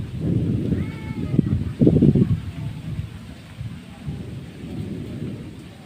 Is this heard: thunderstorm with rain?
yes